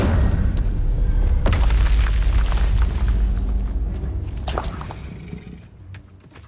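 An Incendio fire spell is cast in Hogwarts Legacy, giving a loud booming burst of flame with a rumbling roar that fades over several seconds, with a second impact partway through.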